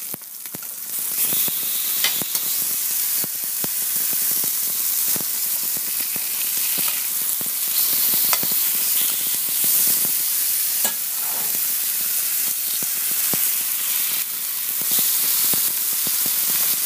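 Sausage meat sizzles and crackles steadily in a hot frying pan, with sharper spits and pops as the pieces are turned over, continuous and close throughout.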